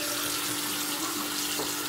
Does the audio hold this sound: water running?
yes